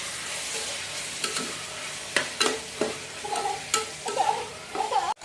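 Onions, tomatoes and chopped green chilli fry in a pan with a soft continuous sizzle while a spoon stirs them, giving several sharp scraping knocks against the pan, close and clear, with no talking.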